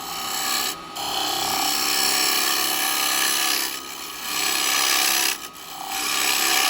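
Carbide chisel cutting a spalted beech bowl on a wood lathe, a steady close rasping scrape broken by three short pauses as the tool lifts off the spinning wood.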